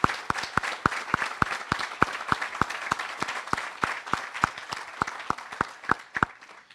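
Audience applause at an outdoor dedication ceremony, a steady stream of individual claps continuing for several seconds at moderate volume, with no speech over it.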